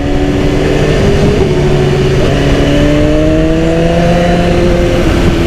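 Loud, close engine of a 2010 BMW S1000RR motorcycle winds through sustained revs, its pitch climbing and dropping between gear changes, with no speech over it.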